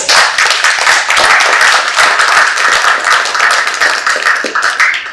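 At a conference session on new education technologies, a round of applause breaks out: loud, close, crisp hand claps packed into a lively, slightly uneven patter for several seconds.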